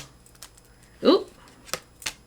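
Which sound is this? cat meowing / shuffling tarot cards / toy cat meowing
shuffling tarot cards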